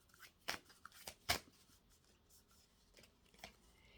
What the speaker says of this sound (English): So let's give the cards a good shuffle